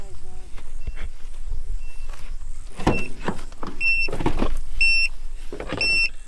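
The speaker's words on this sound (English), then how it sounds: "I can hear my car beeping. It's a tyre pressure monitor." A car's tyre pressure monitor gives a series of high, clear beeps repeating in regular pairs during the second half, over low outdoor rumble and vehicle noise.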